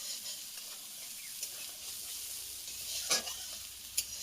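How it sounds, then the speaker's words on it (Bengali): Spices fry in a pan for a Bengali pumpkin-stem dish, a close, steady sizzle with a few sharp stirring scrapes and crackles near the end, heard alone without talk. "মশলাটা ভাজা হয়ে গেছে"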